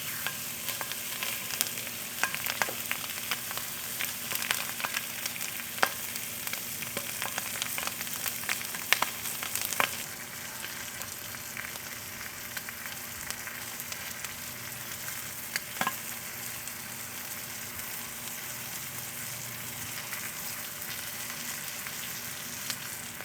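Chicken breast searing on a grill gives a steady crackling sizzle throughout, with a few sharper pops and spits in the first half, close and fairly quiet, no talking.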